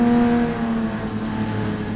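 Race cars, BMW M4 GT4s among them, roll to the start at Indianapolis, a steady dense engine drone with layered harmonics holding at a constant level throughout, with no voices.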